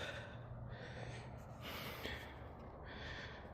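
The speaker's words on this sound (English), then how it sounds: "I stopped for a minute to catch my breath" Heavy, labored breathing with gasps and snorts during a pause on a steep, step-filled climb up Piestewa Peak, close and steady for a few seconds with no talk.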